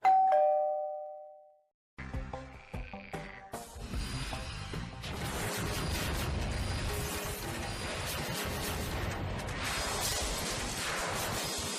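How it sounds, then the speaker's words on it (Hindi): A cartoon doorbell gives a clear two-tone ding-dong alone at the start, then silence before busy clattering and animated scene noise take over. "तभी दरवाजे की घंटी बजी।"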